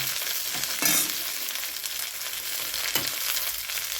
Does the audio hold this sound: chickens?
no